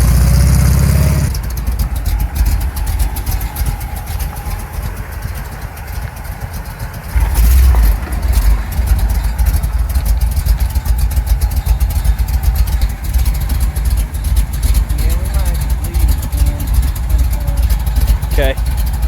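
A 1975 Chevrolet C10 truck's engine rumbling at idle amid heavy traffic, a loud, low, continuous rumble with clattering texture and a short surge partway through.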